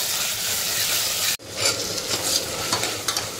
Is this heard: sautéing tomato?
yes